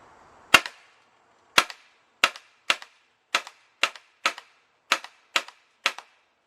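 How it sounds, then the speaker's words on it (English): An HK416 rifle fires ten sharp, separate shots at a range, each a loud close crack with a short echo, spaced unevenly about half a second to a second apart, with quiet between them and no talking. "Alright, so that's a 10 shot group right there."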